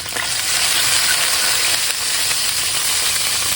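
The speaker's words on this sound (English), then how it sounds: "slice the garlic into slices and put it in the oil" Sliced garlic sizzles and crackles steadily in hot oil, a loud, dense frying hiss that runs unbroken from start to finish with no voices.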